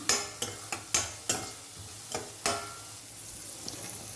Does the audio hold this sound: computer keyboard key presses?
no